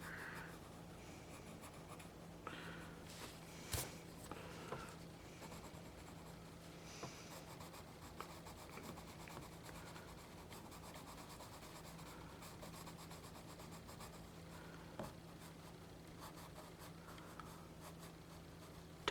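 Colored pencil rubs softly across paper during blending, a faint continuous scratchy stroking that carries on for a long stretch with occasional small taps, close and quiet.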